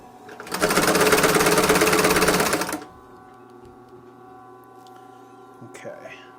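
Leather sewing machine running in a short fast burst of rapid, dense mechanical stitching, loud and close, then stopping to a low hum with faint handling noises.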